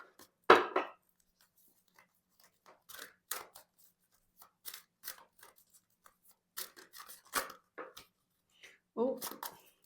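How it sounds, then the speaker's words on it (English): A deck of tarot cards being shuffled in quiet, brief bursts of papery riffling and tapping, separated by pauses, close and soft. "I'm just going to shuffle these cards."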